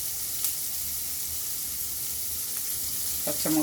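Chopped onion and slit green chillies sizzle steadily in a pan for a radish sambar, a soft continuous frying hiss with a few faint stirring clinks near the end.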